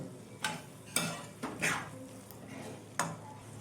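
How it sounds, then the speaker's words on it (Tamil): Fried chicken pieces being stirred in a pan for butter chicken, a quiet background sizzle with several distinct scraping strokes and clinks of a spoon against the pan, spaced about half a second to a second apart. "இப்போது ஃப்ரை பண்ண சிக்கன் போட்டு நல்லா கிண்டி விடலாம்"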